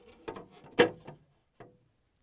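A plastic Whirlpool refrigerator door bin clatters and clicks into place with a couple of quick knocks, followed by one lighter tap, close up and brief.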